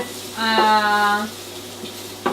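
Celery and other vegetables frying in a pan for a vegan filo pastry lasagna, a steady close sizzle that holds for about a second and then fades into quieter crackles and a couple of soft clinks.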